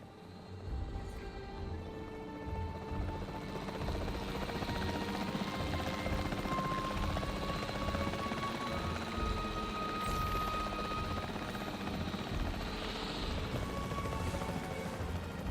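A capture team helicopter in Jurassic World Evolution 3 flies in a steady, loud rotor drone that holds for the whole stretch, with game ambience and faint thuds mixed beneath it.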